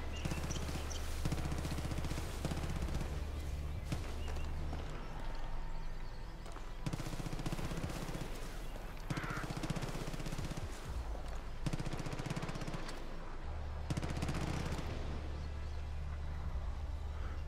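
Gunfire from a shooting range in Far Cry New Dawn, rapid bursts of automatic fire with single shots mixed in, heard from a distance over a steady low game hum, continuing for the whole stretch without speech.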